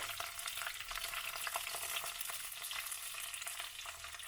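Green chillies, curry leaves, shallots and a sliced onion frying with salt in a pan for Kerala-style prawn curry, a steady close crackling sizzle with faint stirring scrapes throughout, no voices.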